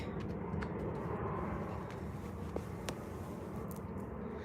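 A fixed-wing airliner passes overhead at Manchester Airport as a steady, broad engine roar that stays even and loud throughout, with a few faint clicks on top.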